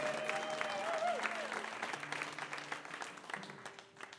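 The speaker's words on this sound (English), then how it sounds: "Give yourselves a round of applause" A live radio show audience applauds in a broad, dense wash of clapping that gradually thins and tapers off over a few seconds.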